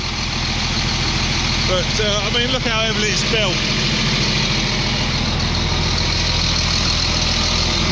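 The turbocharged 7.6-litre engine of a John Deere 4955 tractor idles nearby in a loud, steady, low rumble while someone talks over it.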